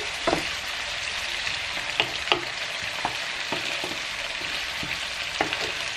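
Onions softening as they fry in plenty of oil, a steady close hiss of sizzling broken by a few light spoon taps and stirs against the pan, and no one speaking.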